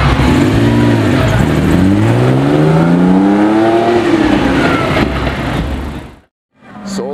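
A Solar Beam Yellow Mercedes-AMG GT C sports car revs loudly up close, its engine note climbing and falling through several swells before cutting off sharply, followed by a brief burst of another sound.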